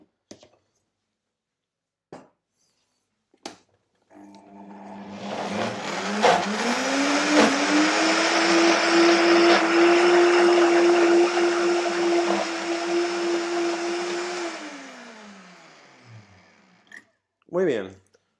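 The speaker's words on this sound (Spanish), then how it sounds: "Una vez que batimos todos los ingredientes del queso" A blender whirs up raw vegan cheese ingredients, spinning up after a few short clicks, holding a loud steady whine for about ten seconds, then winding down, with a brief burst of talk at the end.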